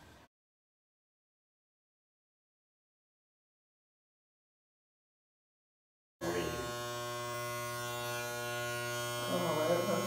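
Electric hair clippers shaving a person's hair: after a long silent stretch a loud, steady, close buzz switches on and holds to the end.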